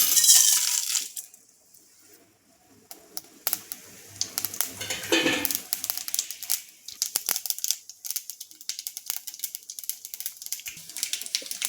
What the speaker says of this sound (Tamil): கடுகு வெடிச்சிருச்சுங்க